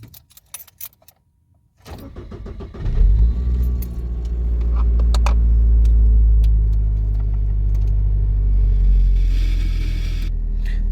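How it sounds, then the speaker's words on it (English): A 1997 Saturn SL2 being started: keys jangle, the engine cranks and catches, then settles into a steady loud rumble as the car idles and pulls away. "Right, so we're going to start her up,"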